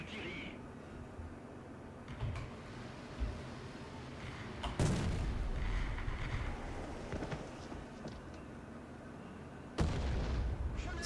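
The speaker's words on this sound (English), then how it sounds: "We'll get some artillery on it" Artillery fire in the tank game War Thunder, with a few distant booming shots spaced several seconds apart over a low, rumbling battlefield background, fairly quiet overall.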